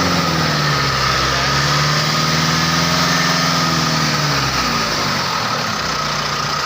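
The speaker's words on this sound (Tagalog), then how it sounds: "I-off natin ang engine. Tingnan nyo, magpo-freewheel ito." A 2022 Mitsubishi Strada 4x4's AC compressor clutch spins freely after the engine is switched off, a steady mechanical whir with a hum that slowly drops in pitch and fades, close and continuous with no talking.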